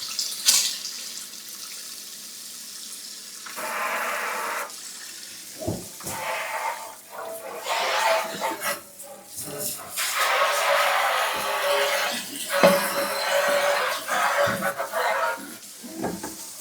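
Residual water sputters and blows out of a drained, shut-off faucet supply line during installation of an inexpensive kitchen faucet. The hissing, splashing bursts come in irregular spurts, up close, between clinks of tools and handling.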